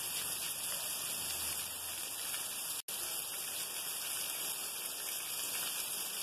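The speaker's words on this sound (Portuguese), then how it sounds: "É muita chuva, meu amigo." Heavy rain pours at night beside the AL-220 road in Alagoas, Brazil: a dense, steady hiss with a single brief dropout.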